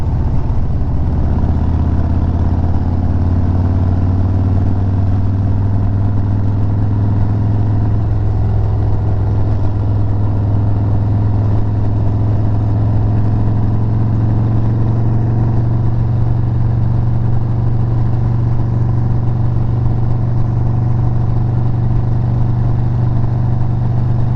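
Steady engine drone of a motorcycle cruising along a scenic road, a continuous close, loud hum with slight shifts in pitch as it holds speed, no talk over it.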